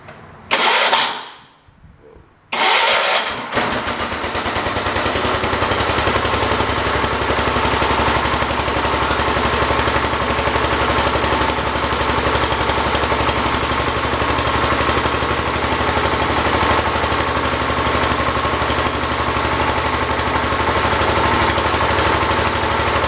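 A 1978 John Deere 316 lawn tractor engine cranks briefly, falls quiet for a moment, then catches and runs at a steady, loud, close idle for the rest of the clip with no talking.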